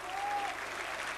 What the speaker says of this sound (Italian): gli applausi per lui.